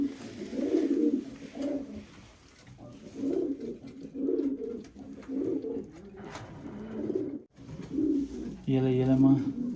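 Pigeons bred from Dutch racing stock coo in repeated low, throaty phrases, fairly close and steady, with several bursts across the stretch and a louder call near the end.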